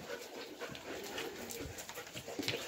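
Dogs whimpering and panting in a kennel, faint irregular whines and shuffling noises scattered through a quiet room.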